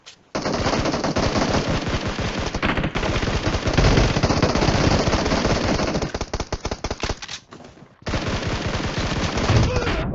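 Sustained automatic rifle fire from a Scar L in a PUBG Mobile team deathmatch, loud and rapid, with a brief pause before the bursts resume. Voices talk faintly underneath.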